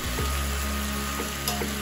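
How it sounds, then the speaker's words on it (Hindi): Fried cauliflower pieces dropped into manchurian sauce in a pan over a high flame give a steady, close sizzle with a few soft stirring knocks, and no voices over it. "गैस का फ्लेम अभी हाई करते हैं और इसमें डालेंगे फ्राई किए हुए गोभी।"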